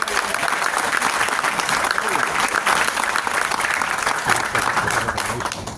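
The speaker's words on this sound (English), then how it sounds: "Let's give our mayor a round of applause." An outdoor crowd at a city mural unveiling in Orange applauds the mayor as he steps to the podium, a sustained, full round of clapping with scattered voices and cheers mixed in.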